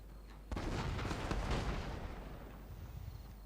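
Cannon artillery fire in the Shogun II Fall of the Samurai strategy game, a sudden booming blast followed by a rolling rumble and scattered distant shots that slowly fade.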